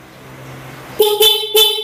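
Three sharp horn honks from a Honda ADV 160 motorcycle with a dual contact horn ring out one after another, loud and close, after a stretch of low engine idle.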